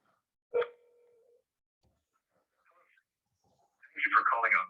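A single telephone keypad tone sounds briefly, followed by a steady faint tone and near silence before a voice begins speaking near the end.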